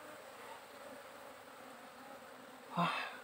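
Wild honey bees buzz faintly around a nest box outdoors, a soft continuous hum with one bee passing close and louder near the end.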